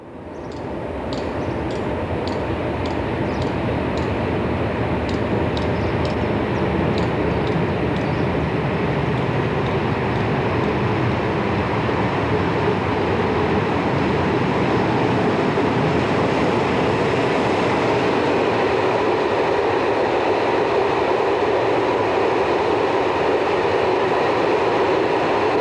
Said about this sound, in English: The same train passes through Toul.